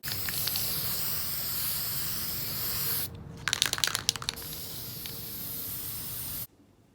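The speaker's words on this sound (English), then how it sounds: "I'm going to go check and spray paint my thingy again." Steady hiss of a spray can for several seconds, broken by a few short bursts, then it cuts off abruptly.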